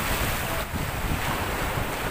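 Large waves crash and surge against a rocky shoreline at low tide during the habagat monsoon season, a loud continuous roar of surf mixed with heavy wind buffeting the microphone.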